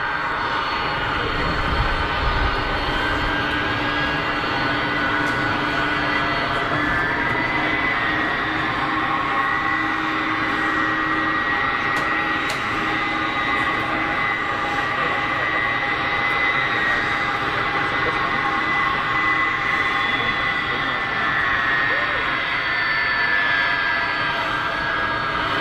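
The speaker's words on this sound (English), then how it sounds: "Delta has pushed back, and it's on the taxi. 767-300 out to JFK. Old school noises, folks." A Delta Boeing 767-300 bound for JFK taxis at Geneva Airport, its older jet engines giving a continuous loud whine with layered steady tones over a deep rumble, unbroken from start to finish.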